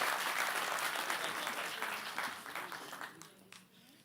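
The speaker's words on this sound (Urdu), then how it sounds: "زوردار تالیاں" A crowd at an Urdu poetry gathering (mushaira) in Delhi applauds, the clapping loud at first and gradually fading away over a few seconds.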